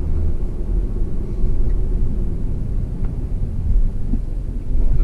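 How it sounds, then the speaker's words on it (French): A red Audi RS3 sedan driving, with a deep, steady exhaust rumble and low engine drone swelling and easing slightly, heard from inside the car with no talk. "on nous entend avec les sorties d'échappement"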